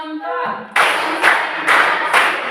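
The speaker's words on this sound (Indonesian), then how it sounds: "Tepuk 1, tepuk 2, tepuk 3, tepuk 4," Group hand clapping in a classroom ice-breaker, a voice counting briefly before four loud, evenly spaced claps in a steady rhythm.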